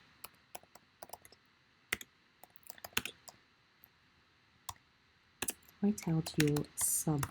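Keyboard keys click in scattered bursts at close range while making a graphic with black text on a pink rectangle, then a voice speaks over the last few seconds.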